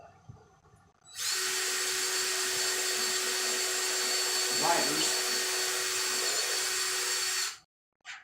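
A power drill whirs steadily for several seconds at close range, boring into wood, then stops abruptly; a brief word is spoken at the start.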